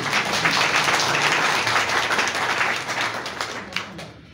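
An audience at a computer learning center claps in sustained, dense applause that stays strong for a few seconds, then thins out into a few scattered claps.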